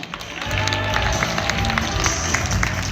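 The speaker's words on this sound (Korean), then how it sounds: "이때 아낌없는 박수로 함께 받으시면 감사하겠습니다" A crowd applauds, with dense, steady clapping and a few voices mixed in, filling the space at a moderate distance.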